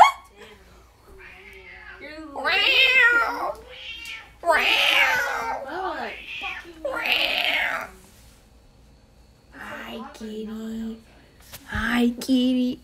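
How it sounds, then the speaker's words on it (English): A cat meows repeatedly, close and loud, in long drawn-out cries spaced a second or two apart, with quieter shorter meows near the end. "Hi, kitty."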